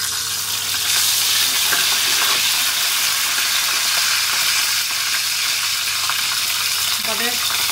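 Whole spices, panch phoron, cinnamon, cardamom, peppercorns and bay leaf, fry steadily in hot oil, giving a continuous close sizzle with faint stirring clinks and no talk.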